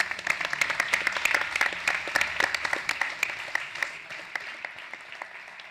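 Audience applause for four panel speakers at a private medicine forum, dense clapping from a crowd that swells early then gradually thins and fades over several seconds.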